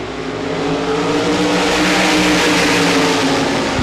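RaceSaver sprint cars at Devils Bowl Speedway roar together at the green flag start, a loud, dense, rising engine drone as the field accelerates past, steady and close with no talk.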